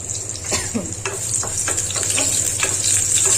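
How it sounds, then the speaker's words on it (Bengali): Garlic frying in oil for a leafy greens dish, a loud steady sizzle with intermittent scraping stirs and a faint low hum underneath, close and without talk. "রসুনটা সুন্দরভাবে ভাজা হয়ে যাক, লাল লাল ধরবে"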